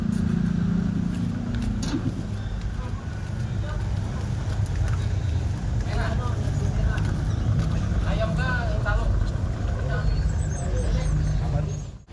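Passenger boat on the Mahakam river, a steady low engine drone running throughout with voices talking over it and some higher tonal sounds near the end.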